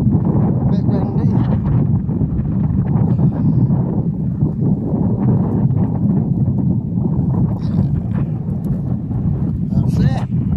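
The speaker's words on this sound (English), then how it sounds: "A bit windy." Steady, loud wind buffeting the microphone outdoors while camping at Bala Lake, a constant low rumble throughout with faint voices mixed in.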